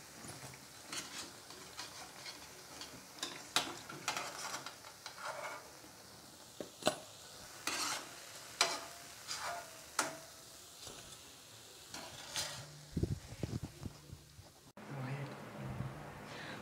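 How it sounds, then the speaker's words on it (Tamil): Noodle samosas deep-fry in hot oil with a bubbling sizzle, broken by scattered clicks and scraping stirs as the pieces are turned and lifted out. "மீதமுள்ள மாவையும் இதே மாதிரி பொரிச்சு எடுத்துடலாம்."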